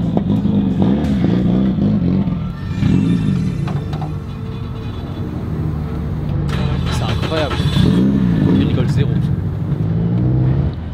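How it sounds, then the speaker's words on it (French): A Nissan GT-R drift car in Tokyo revs in repeated rising and falling surges, loud and close, with mechanical clatter in between while people talk over it. "je pense que c'est GTR, vu le bruit qu'elle fait."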